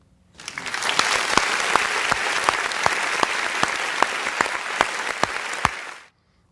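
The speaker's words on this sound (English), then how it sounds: "Graduates, please give your family members a round of applause." A graduation crowd claps for the graduates' families in steady, dense applause lasting about six seconds, starting abruptly and fading out at the end, with no voices over it.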